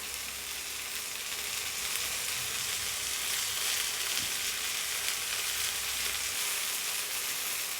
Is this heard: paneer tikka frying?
yes